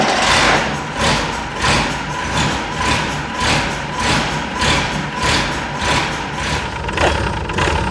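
Unimog 416 diesel engine idles with an uneven, rolling beat, its loud, low chug pulsing roughly twice a second over several seconds with no voices.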